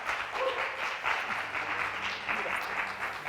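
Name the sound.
audience applause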